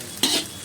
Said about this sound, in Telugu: ఇంకా చక్కగా కలుపుకోవాలి, మొత్తం ఫ్రై అవ్వాలి.